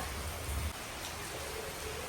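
Heavy rain pours down steadily, a dense, even hiss of falling water that stays constant and close for the whole stretch, with no voices.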